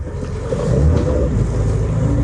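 A VAZ 2121 Niva engine, just revived after restoration work, idles steadily and fairly loud close by, a continuous low engine rumble with no talk over it.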